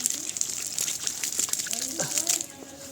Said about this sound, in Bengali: গাছে মোটামুটি একটু পানি দিয়ে দিলে হয়তো গাছের গোড়ায় রস পাবে